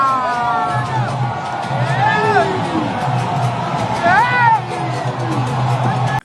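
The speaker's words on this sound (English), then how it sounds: "You will feel that the crowd is too much." Large outdoor crowd gathers at the funeral grounds in Kumasi for the Asantehemaa's funeral, with loud continuous hubbub, shouts and whoops, close voices calling and talking over a dense background murmur.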